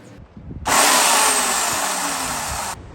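A new chainsaw engine starts suddenly and runs at a steady, loud, high-pitched roar for about two seconds, then cuts off abruptly, heard close up on its own.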